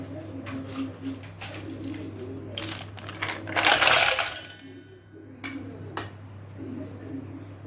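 Ice cubes clatter into an empty vessel while watermelon sherbet is being made, a run of sharp clinks peaking in a dense rattling cascade midway, with faint talk nearby.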